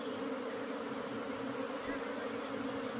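A swarm of agitated bees crawling over a man drones in a constant, close, dense buzz that stays steady throughout, with no talk over it.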